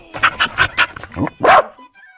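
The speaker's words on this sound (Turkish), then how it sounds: "What sound does a dog make" A dog barks in a quick series of sharp, close barks, ending with a louder, longer bark.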